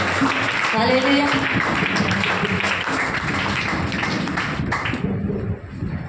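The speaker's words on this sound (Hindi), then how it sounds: "ये बच्चों के लिए ताली बजाओ" A church congregation applauds the children in a dense, steady wash of clapping that lasts several seconds, mixed with voices and a little music.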